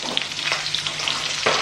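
Green chillies and mustard seeds sizzling in hot oil alongside carom seeds, a loud close crackling hiss with small pops and a sharper burst near the end.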